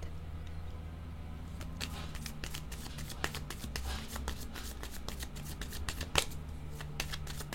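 A deck of cards is shuffled during a card reading, giving a quiet rapid riffling with soft flicks over a low steady hum.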